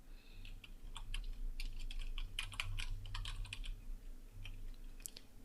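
Typing on a computer keyboard comes in quick, uneven bursts of soft key clicks with short pauses between them, close and fairly quiet.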